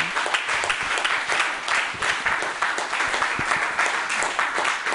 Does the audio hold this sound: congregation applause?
yes